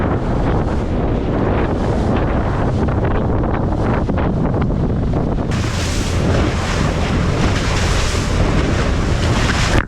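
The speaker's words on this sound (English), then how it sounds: "The chop and the wind was getting so annoying" Strong wind buffeting the microphone over choppy water on a bumpy boat ride out to a sandbar, a constant loud roar of gusts and slapping chop with no break.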